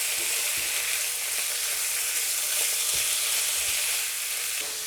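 Chicken hearts and onion sizzle and crackle steadily in a hot pan, an even, close frying hiss with occasional soft pops and stirring knocks.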